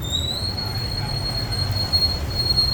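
Medellín metro train wheels squealing, a continuous high piercing screech held steadily over low rumbling rail noise, close and loud throughout.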